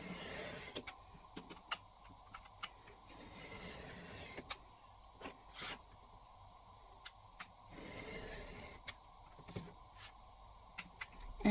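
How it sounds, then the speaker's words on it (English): A craft knife slices through card while a book cover is made, giving a series of quiet, close scraping strokes and short sharp clicks spread unevenly across a hushed room. "So, trusty craft knife again"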